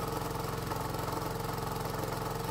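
Small engine driving an alternator generator, running steadily at around 2600 RPM with heavy vibration, making a close, continuous, evenly pulsing drone with no talking.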